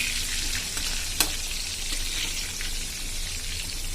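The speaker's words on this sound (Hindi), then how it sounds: "चलिए इसको फ्राई होने दीजिए" Potatoes fry in hot oil for chicken biryani, a steady, even sizzle with soft crackling close by and one brief sharp pop, with no talking.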